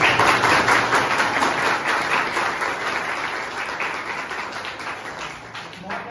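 An audience in a college hall, gathered for a political science model parliament, breaks into sustained, dense applause that fills the room and slowly fades over several seconds.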